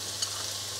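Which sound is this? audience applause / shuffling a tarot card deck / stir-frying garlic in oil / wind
stir-frying garlic in oil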